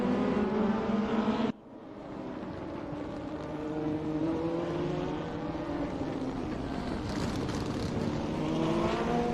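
DTM race cars lap the DEKRA Lausitzring in the RaceRoom racing game, a loud continuous engine roar that cuts briefly, then resumes with several cars' overlapping engine tones rising and falling.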